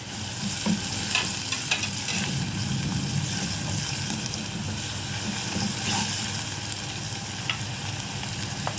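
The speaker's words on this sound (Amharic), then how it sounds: "ቲማቲም ይኸው እንደዚህ ይቁላላል።" Garlic and tomato sauté in oil in a pan for a vegetable shiro stew, giving a steady close sizzle and frying crackle with occasional stirring scrapes throughout.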